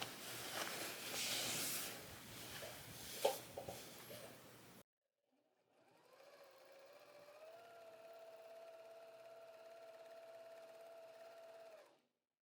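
A sewing machine quilting fabric runs in a steady whirring drone for several seconds after a stretch of rustling handling noise, then stops abruptly, close and with no talk.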